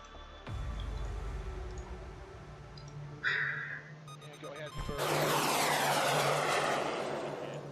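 Tomcat jets roaring at afterburner in the combat simulation game Command: Modern Operations, a loud broad engine rush that swells sharply near the end after quieter droning and brief clicks.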